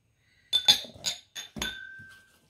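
Drinking glasses clinking together as they are handled, a few close, bright chinks in quick succession, the last one ringing out briefly.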